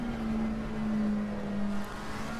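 Porsche race car engine in Assetto Corsa Competizione droning steadily at sustained revs, a constant mid-pitched hum with a slight swell, heard alone with no talk.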